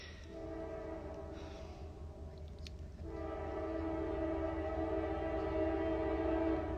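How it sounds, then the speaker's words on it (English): A train passes close by, its sustained horn blaring in steady layered tones over a continuous low rumble that swells louder midway and stays loud to the end. "Sorry about the train."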